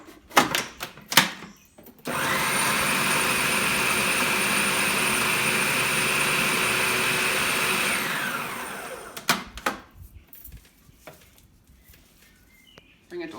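A food processor runs steadily for about six seconds, a loud, even whir blending chickpeas with lemon juice into hummus, framed by brief clatter and handling noises before and after.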